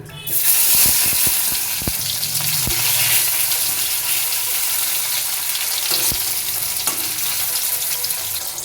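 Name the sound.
sliced tomatoes added to hot oil with spices, sizzling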